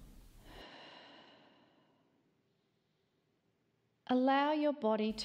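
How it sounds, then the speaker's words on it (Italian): A long, slow breath drawn in and eased out, fading to quiet, before a voice starts speaking near the end. "chiudi i tuoi occhi e fai un profondo respiro"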